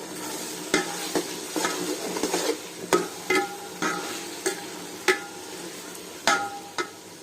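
Vegetable biryani masala with curd and oil sizzles in a pan as a spoon stirs and scrapes it in repeated, close knocks over a steady frying hiss, with no voices.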